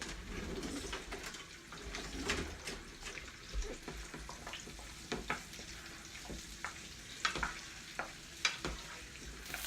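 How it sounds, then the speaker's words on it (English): Steady crackling sizzle of Brussels sprouts and garlic frying in bacon fat in a pan, with scattered pops and stirring clatter, close and moderately loud with no voices. "Got the Brussels sprouts with the garlic frying up just a bit in the bacon fat."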